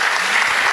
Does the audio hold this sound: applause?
yes